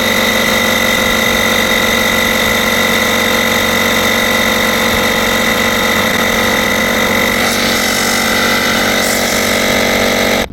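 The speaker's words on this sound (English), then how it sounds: "that tells me that compressor works very nicely under load" An E-Ant jump starter's built-in air compressor pumps up a tire under load, a loud, close, steady whining buzz that holds constant, its pitch dipping slightly near the end before it cuts off.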